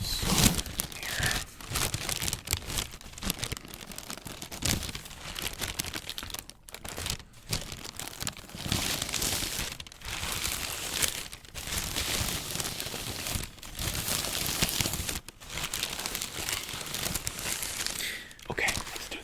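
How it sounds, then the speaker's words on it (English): Continuous close crinkling and rustling of packaging while unboxing sneakers, dense crackly handling with brief pauses throughout. "I'm gonna open these up here and we'll do some crinkles"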